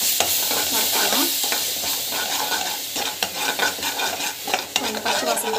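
Tomato puree and raw banana frying in a pan while being stirred, a dense continuous sizzle with scraping spoon strokes toward the end, loud and close with no voices.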